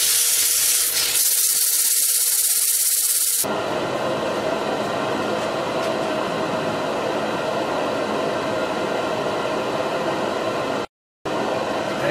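An electric sander working wood with 320-grit paper, a steady loud buzzing whine that runs continuously close up, with a brief cutout near the end and no talking.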